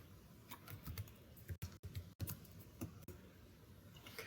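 Computer keyboard typing during a network-capture lab, a quick run of soft, close key clicks with a few brief pauses, quiet and without any voices.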